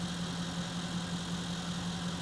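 A Mercedes-Benz car engine idling steadily at the exhaust, a continuous low droning hum with a faint vibrating rattle, close and even throughout.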